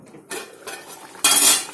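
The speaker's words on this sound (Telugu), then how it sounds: "నేను మూత పెట్టేసి ఉడికిస్తాను దాన్ని." Metal lid set onto a pot of capsicum curry on the stove, a couple of clattering cookware knocks followed by a louder, bright metallic clang, close up with no talking.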